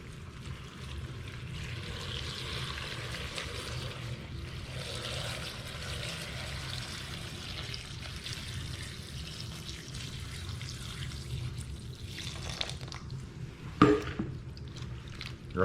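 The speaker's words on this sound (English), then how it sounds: "now we're just gonna top this off with water" Water poured steadily into a jar of peppers, garlic and salt-sugar brine for fermented hot sauce, a continuous close rushing pour with a few clinks and knocks near the end.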